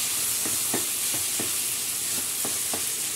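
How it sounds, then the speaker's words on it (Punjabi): Spoon strokes stirring chopped raw mango chutney with jaggery in a pan, a steady series of soft scraping swishes at an even rhythm over a constant background hiss, with no talking. "ਇਹਨੂੰ ਆਪਾਂ ਚੰਗੀ ਤਰ੍ਹਾਂ ਰਲਾ ਦਾਂਗੇ ਜੀ"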